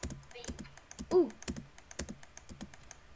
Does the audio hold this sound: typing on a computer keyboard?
yes